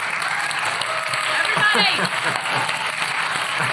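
Applause from a small audience at the close of an underworld-themed talk show, a steady patter of clapping hands holding at even loudness for several seconds, with voices mixed in.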